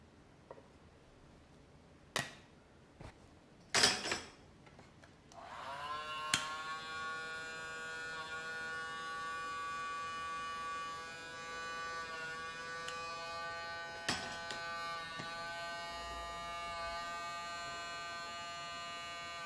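A handheld smoking device buzzes steadily while smoking ice inside a cocktail shaker for a basil daiquiri, starting after a few clicks and knocks and holding a constant electric hum close to the microphone.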